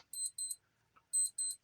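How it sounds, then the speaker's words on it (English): A stopwatch alarm beeps in two quick bursts of shrill electronic beeps separated by a short pause, close and alone. "I've been trying to figure out how to take this alarm off my stopwatch"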